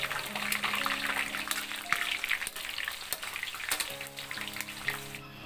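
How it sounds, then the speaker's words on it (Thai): Coconut beetles deep-frying a second time in hot oil in a wok over medium heat, with a loud bubbling sizzle and crackle, stirring scrapes and a few light knocks throughout, heard up close. "ตั้งกระทะไว้เปิดไฟกลางค่ะให้น้ำมันร้อนแล้วใส่ตัวด้วงที่เราทอดรอบแรกลงไปค่ะ"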